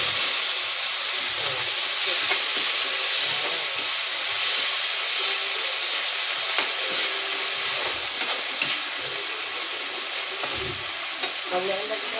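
Corned beef sizzles in a hot pan, a steady frying hiss with occasional crackles and stirring scrapes, continuous throughout with no talking.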